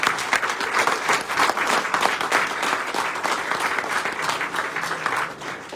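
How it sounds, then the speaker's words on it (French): Sustained audience applause fills a room at a speech by a French minister for equality, a dense steady clatter of many hands clapping close and loud, with no talking over it. "Et ça mérite de très très grands applaudissements"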